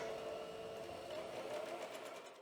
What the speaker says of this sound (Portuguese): Tô costurando na pontinha do direito do tecido.